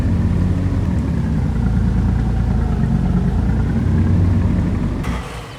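A truck engine in the Farming Simulator video game drones at a low, steady idle-like rumble that holds throughout, then drops away near the end after a brief sharp transient.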